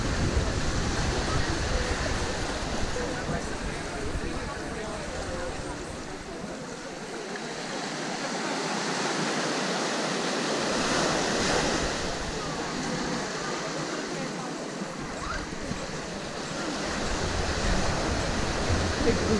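Surf washing continuously onto a beach, a broad steady roar of breaking waves that swells and eases, close and fairly loud, with some wind noise and no clear speech.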